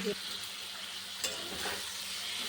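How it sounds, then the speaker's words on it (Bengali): Potatoes frying in a wok with a steady sizzle, a brief scraping stir near the start and another midway, continuous and fairly close, no voices. "আলু দিয়ে দিলাম বন্ধুরা আলুটা একটু ভেজে নিই"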